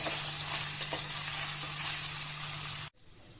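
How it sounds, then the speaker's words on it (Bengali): Shredded coconut frying in a pan for ghugni, giving a steady loud sizzle that fills the clip before cutting off abruptly near the end, with no talk. "নারকেলগুলোকে কিছুক্ষণ ভাজা ভাজা করে নেব।"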